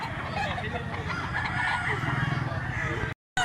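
A black leg gamefowl rooster from Mantalungon, Cebu crows loudly and close, the call spanning nearly the whole moment, with clucks and a busy farmyard background around it; a brief dropout cuts the sound near the end.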